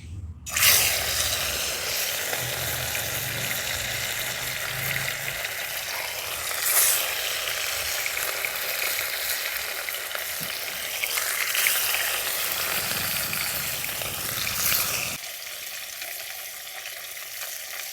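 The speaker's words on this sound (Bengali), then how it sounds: "তেলটা গরম হয়ে গেছে এরপর আমি মাছগুলোকে ভেজে নেবো" Catla fish pieces fry in hot oil with a loud, continuous close sizzle and occasional stirring, the crackle dropping off abruptly near the end.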